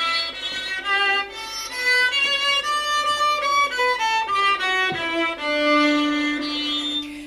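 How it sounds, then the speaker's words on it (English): A violin bowed right on top of the bridge (ponticello) plays a bright, glassy, whistling melody with strong upper overtones, continuous and close up, with no talk. "But if you actually play on top of the bridge, it's called ponticello, and it sounds like this."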